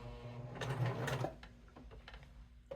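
A sewing machine stitching rope for a heart-shaped coaster, a short close whirring run of stitches that stops after about a second, followed by faint handling clicks.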